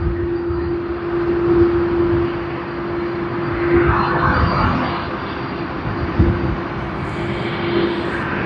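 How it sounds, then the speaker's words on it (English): A Boeing 767-300 freighter flown by Tasman Cargo Airlines for DHL, Auckland to Sydney, at Sydney Airport: a close, steady engine roar with a sustained droning tone throughout. "DHL HJ3 Auckland to Sydney, operated by Tasman Cargo Airlines, 767-300 Boeing"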